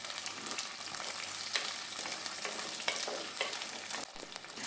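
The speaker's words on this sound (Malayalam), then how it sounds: "ഒരു ചെറിയ ഉള്ളി 250 ഗ്രാമാണ് എടുത്തിരിക്കുന്നത്. അത് ചേർത്ത് കൊടുത്ത് നന്നായിട്ടൊന്ന് വഴറ്റി കൊടുക്കാം." Small onions, 250 grams, sauté in a hot pan for a spicy Kerala dried prawn theeyal, giving a steady close sizzle with scattered stirring scrapes, no talking.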